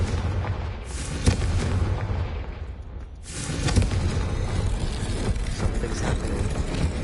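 Deep booming blasts from the Confringo spell in Hogwarts Legacy, a heavy explosion near the start followed by a short dip and another rumbling burst, with crackling debris and low rumble continuing loud afterward.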